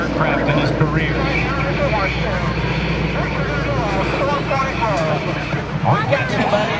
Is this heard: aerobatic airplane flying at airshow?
yes